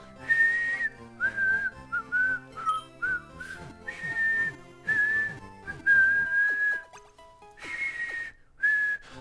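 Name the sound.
person whistling a catchy song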